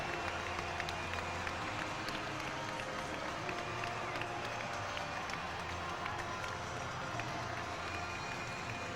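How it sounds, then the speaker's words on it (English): A capacity rugby crowd at Leicester roars steadily, a dense, continuous wash of cheering and clapping that stays loud and even throughout, with no single voice standing out. "the capacity crowd in good voice"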